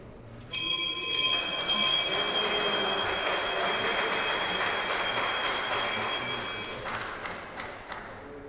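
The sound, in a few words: stock exchange bell ringing on trading floor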